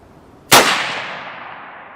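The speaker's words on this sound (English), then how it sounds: "3 shots with the Federal Fusion." A single sharp rifle shot from a 6.5 Creedmoor firing Federal Fusion ammunition cracks loud and close, then a reverberant tail fades over the next second and a half.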